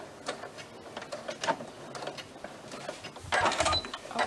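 Sewing machine back stitching at the end of a seam on a fabric pencil bag, a fast mechanical whirring rattle that runs throughout and grows louder near the end, no voices.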